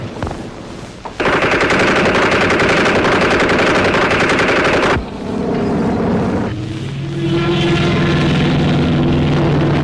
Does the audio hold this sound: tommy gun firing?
yes